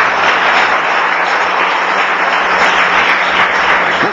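A church congregation breaks into loud, dense applause praising Jesus, an even roar of many hands clapping at once with no gaps.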